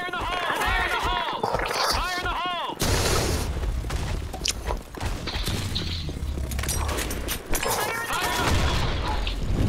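Shotgun blasts in a shooter video game, heavy booming shots and clattering impacts bursting repeatedly amid game effects, while players talk excitedly over them.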